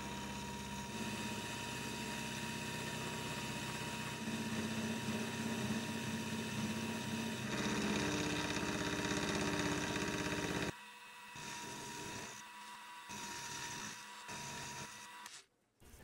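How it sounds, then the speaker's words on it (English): Milling machine cutting a part held in a collet block: a steady mechanical hum and whirring cut runs for about ten seconds, then quieter intermittent machine sounds and pauses follow near the end. "So I'll start by milling this down to the rectangle that we need."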